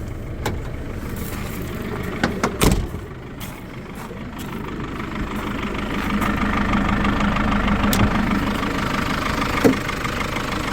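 A minibus engine idles steadily nearby, a low rumbling hum with a few clunks and knocks near the start.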